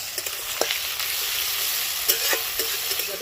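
Chopped tomato and green chilies fry in a pan with a bright, steady sizzle, broken by several sharp clicks and scrapes of a stirring spoon against the pan.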